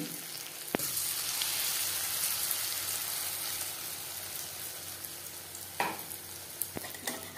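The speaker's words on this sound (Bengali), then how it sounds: "উচ্ছে ভাজবার জন্য বেশ খানিকটা রিফাইন্ড অয়েল গরম করে নিয়েছি। এবার দিয়ে দিলাম উচ্ছে।" Bitter gourd slices in batter dropped into hot refined oil, frying with a steady close sizzle throughout, a sharp clack near the start and a couple of brief clinks later.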